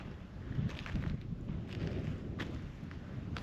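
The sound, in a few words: light wind at night in Baja California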